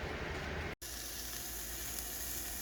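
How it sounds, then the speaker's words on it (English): Steady, bright sizzling of bacon and beef burger patties frying on a hot grill, continuous and close, briefly cut by a split-second drop to silence. "Our patties on the grill. Can you hear that little sizzle?"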